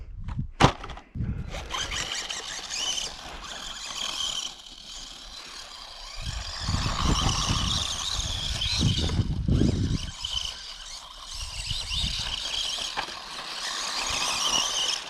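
A WLToys A979 RC truck drives outdoors, its small electric motor whining and rising with throttle bursts over crunching, rattling terrain noise, loud and close with varying intensity throughout.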